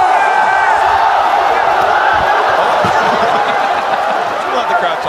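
Large esports tournament crowd at League of Legends All-Star 2013, China versus Taiwan semi-final, roaring and cheering in a dense, sustained mass of voices with scattered shouts, loud and unbroken throughout.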